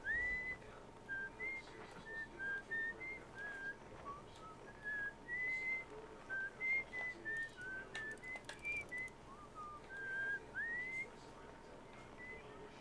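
In the video game Outer Wilds, a melodic whistled tune plays in short repeated phrases, faint and steady against a quiet ambient background.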